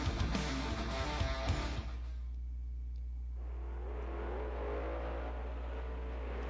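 A monster truck engine in a San Diego stadium at a freestyle event revs and whines at a moderate distance under a constant low hum, following a brief burst of louder crowd and music noise.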